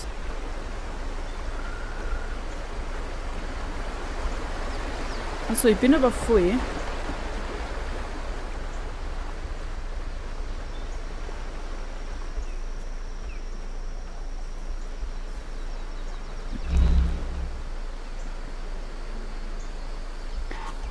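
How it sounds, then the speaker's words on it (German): Steady broadband rush of a fast river in Aporia: Beyond the Valley runs as a constant wash of water noise, with a brief voice and a short thump breaking through. "Ein reißender Fluss"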